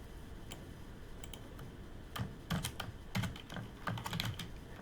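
Computer keyboard typing, quiet irregular bursts of keystroke clicks, sparse at first and then quicker clusters, close and clear with no talking.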